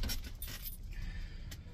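Car keys jangle close by in a short, bright metallic rattle with a few separate shakes, set against a low background rumble.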